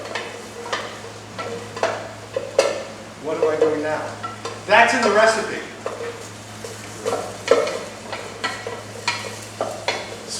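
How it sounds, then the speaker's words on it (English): Onions sizzle and crackle in a hot pan while being stirred, a steady frying hiss under intermittent scraping, with a person talking over it. "You hear it sizzle."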